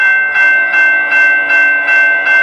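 A railway level crossing bell at a grade crossing rings loudly and close, with steady evenly spaced strokes about every 0.4 seconds, each ringing on before the next.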